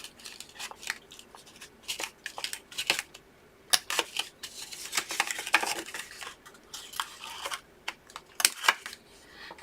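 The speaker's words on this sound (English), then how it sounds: "Corner rounder is the optional step." A corner rounder punching the corners of paper wrapping for a full-size Hershey bar with almonds box, a series of crisp snapping clicks and crunches at irregular intervals, close and fairly sharp, with handling noise between and no one talking.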